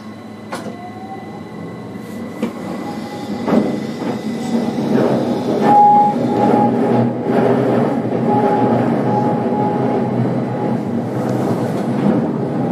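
A Keihan train rumbles and rolls slowly into Biwako-Hamaotsu terminal station in Shiga, Japan, wheels squealing faintly with a steady mechanical hum and a few clicks and clanks.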